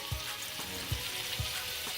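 Pakistani shrimp curry sizzles in a pan with a continuous close frying hiss, broken by a few soft, evenly spaced knocks of stirring. Nobody speaks.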